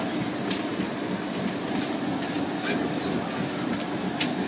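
Java Priority passenger train from Jakarta to Jogja rolling on rails, heard from inside as a steady broadband rumble with rhythmic wheel clacks and faint squeals, continuous throughout.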